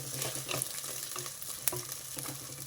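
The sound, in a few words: potatoes frying in a pan for greens pulao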